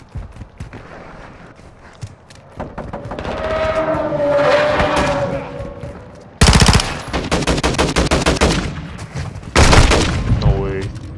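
Gunfire in Modern Warfare 2, a multiplayer match, with rapid automatic bursts cracking loudly in several sharp volleys, interleaved with in-game noise and a voice talking over parts of it.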